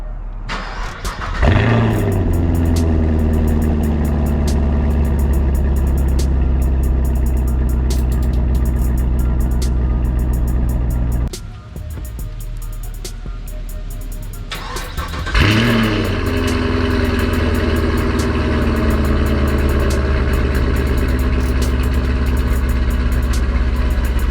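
Car engine cranks and fires with the factory exhaust, settling into a loud steady idle, then cuts off and restarts with Kooks long tube catless headers, catching with a sharp bark and holding a louder, rougher idle.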